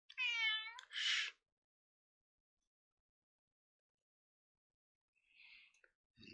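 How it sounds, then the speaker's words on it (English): A house cat gives two short, close meows in a quiet room, followed by a long silence and a fainter sound near the end. "Noisy kitty."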